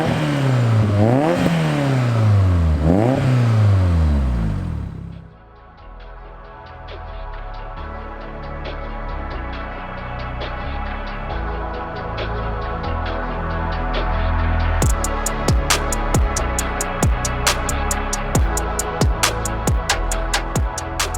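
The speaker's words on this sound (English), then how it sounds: "like the engine note, or the exhaust note should I say, the tone" A Peugeot 205 GTI with a turbocharged 2.1-litre stroker engine of about 315 bhp revs hard through repeated rising gear pulls, then settles into a steady droning exhaust note with rhythmic clattering ticks, loud and close from inside the car.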